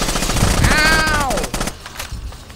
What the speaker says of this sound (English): Stop shooting me in the back!